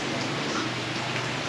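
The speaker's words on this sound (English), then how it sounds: "I never thought it could ever rain this much" Heavy, steady rain on the sixth day of a downpour pours down as a dense, continuous close hiss, with no voices over it.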